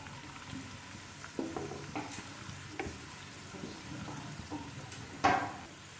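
Garlic sizzles and fries in a pan for chicken karahi, a steady soft crackle under intermittent stirring scrapes and clinks, with one sharper clatter near the end.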